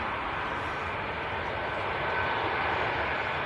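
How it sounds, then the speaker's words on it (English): An Air Transat A330 airliner at Manchester Airport fills the air with a continuous, even engine rumble and hiss, fairly close and steady throughout, with no talk over it. "We're pulling away from that one to catch the Air Transat A330"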